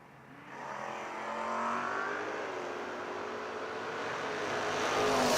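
A drag-racing truck launches and accelerates hard at a footbrake challenge event, its engine note climbing steadily in pitch and growing louder over several seconds, close and alone without talk.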